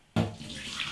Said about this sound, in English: I'm actually going to pour this beer away.